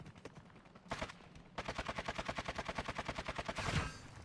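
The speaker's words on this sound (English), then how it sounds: "he's shooting through the fucking vent" Automatic gunfire in a video game match rattles in rapid, evenly spaced bursts, including one long sustained string of shots through a vent, loud and close with no talk over it.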